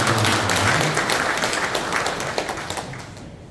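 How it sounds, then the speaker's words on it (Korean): An audience at a civic members' convention claps to welcome the council chairman, a dense, steady burst of applause from a sizeable crowd that gradually thins and fades out toward the end, with no talking over it. "네, 큰 박수로 환영해주시면 감사합니다."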